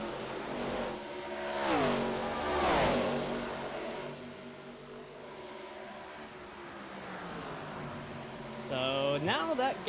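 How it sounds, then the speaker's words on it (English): Race cars, including a Chevy, a Mazda Miata and a Ford, rev and accelerate on a track in Atlanta, engine pitch sweeping up and down through gear changes beneath continuous commentator talk. "a Chevy, a Miata, and a Ford running."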